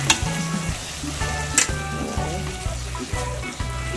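Saltfish fries with ackee in a hot pan, a close, continuous sizzle and crackle broken by soft scraping stir strokes.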